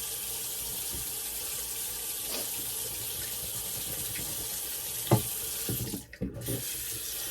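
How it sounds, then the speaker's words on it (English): Water running from a tap into a sink, a steady close hiss of flow with a few knocks and a brief splash near the end, no talk. "we turn on the hot water to get cold water"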